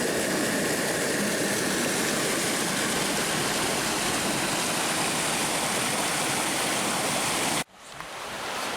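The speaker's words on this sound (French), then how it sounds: "on arrive au bord du ruisseau" A mountain stream rushes loudly and continuously close by, a dense steady wash of flowing water that cuts off abruptly near the end.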